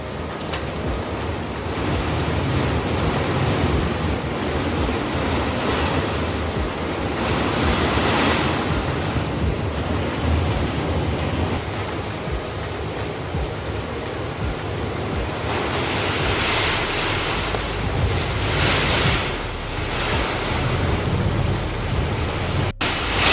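Heavy rain pours down steadily, a dense continuous roar with slow surges in intensity, close and loud throughout.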